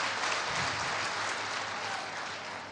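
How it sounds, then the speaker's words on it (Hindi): Steady, dense applause from an audience at a Hindi kavi sammelan poetry gathering in Burhanpur, loud and sustained throughout with no break. "एक बार जोरदार तालियों से बच्चे का स्वागत करें।"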